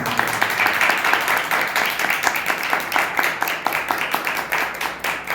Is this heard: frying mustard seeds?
no